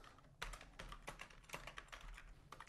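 Typing on a computer keyboard wired to an Arduino, a quick irregular run of close, crisp key clicks and clacks with no one talking.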